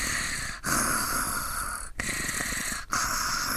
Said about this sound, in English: Sadako's snoring sounded so subtle while I stood by the window.